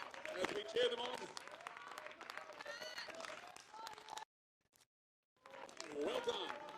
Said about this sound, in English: Let's give them a round of applause as we cheer them on